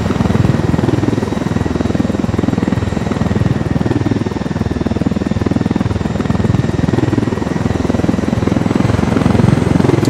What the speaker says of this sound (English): Good view of the helicopter right there.